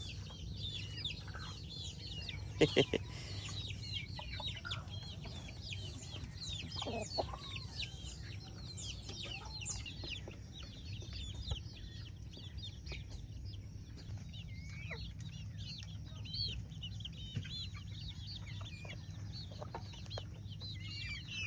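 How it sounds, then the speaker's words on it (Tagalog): Chickens cluck and call on and off against a steady low background hum at a fishpond, with a few brief sharp knocks early on. "Oo, dumami na ang manok dito."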